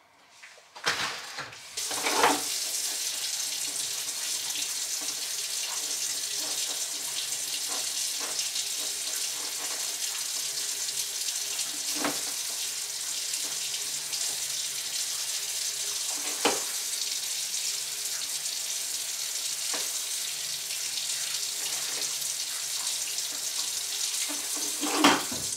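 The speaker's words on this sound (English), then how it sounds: "So I'm going to go ahead and top this off with water." Water trickles steadily from a watering can into lettuce starter pots under grow lights, a soft continuous splashing close by with a few light knocks and bumps.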